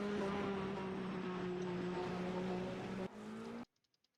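A GT3 race car circulating on the Spa circuit during a 10-hour endurance race, its engine a steady droning roar at moderate distance that cuts off abruptly near the end, with no talk over it.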